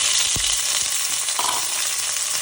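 Mustard seeds and curry leaves fry in hot oil for a crab soup tempering, giving a steady close sizzle with a few stirring knocks and no voices.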